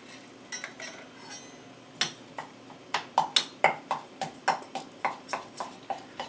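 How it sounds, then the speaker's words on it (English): A spoon stirring peanut butter and sugar in a bowl, clinking against the sides in a regular series of sharp taps that grow more frequent and louder, close up with no talk. "And I just kind of stir it up a little bit."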